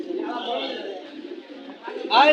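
Soft, low cooing from a round-headed silver pigeon close by at a pigeon market in Bangladesh, with a brief brighter call near the end.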